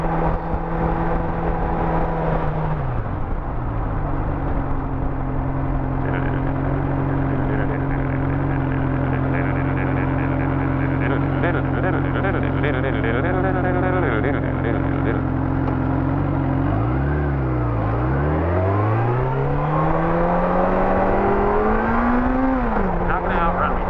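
A motorcycle engine while riding, a loud sustained drone that holds steady, then drops through downshifts and climbs again in revs, with someone talking over it.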